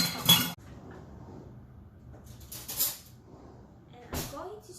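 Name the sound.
spoon scooping out cake batter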